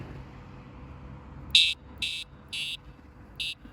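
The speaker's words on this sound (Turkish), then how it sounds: "Şimdi gelelim buzzer'ın sesine" A small electronic buzzer on a solar-powered LED bicycle light sounds four times in short, evenly spaced bursts, harsh and high-pitched, close by against faint background noise.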